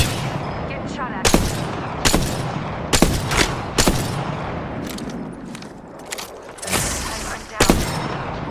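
Gunfire in the video game Apex Legends, in its arenas mode: sharp shots and short bursts recur at irregular intervals through about eight seconds of close combat, with brief gaps between volleys and some heavier impacts.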